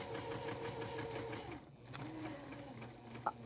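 Sewing machine stitching in rapid, steady mechanical bursts, fairly quiet and close, briefly pausing midway before resuming with a small click near the end.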